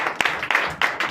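A church congregation at a Sunday service claps in scattered, uneven bursts, a brief close round of applause with no voices over it.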